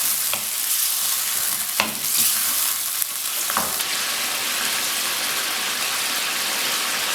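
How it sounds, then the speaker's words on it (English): Onion puree sizzles and fries in a pan for lamb bhoona, a constant bright hiss broken by a few scraping stirs near the start before it settles into steady frying. "I am adding the onion puree to it and frying it for a good few minutes."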